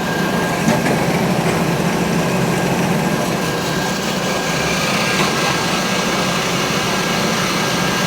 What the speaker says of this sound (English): we're just cutting wood to make it easy for us here, but it's a metal cutting bandsaw